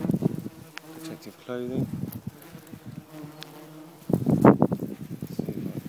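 Wasps buzz densely around a garden wasp nest, a close and steady insect drone with a louder swell near the end, while someone talks over it.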